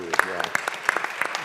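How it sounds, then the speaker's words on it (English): An audience at a housing and economic development conference applauds, the clapping arriving in a steady burst of sharp, fairly close claps. "So I think we should applaud you as well"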